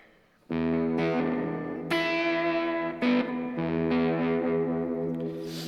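A distorted electric guitar with a choked-out fuzz pedal, sensitivity turned down, plays sustained chords with a gritty, sputtering tone, strummed a few times and left ringing between hits.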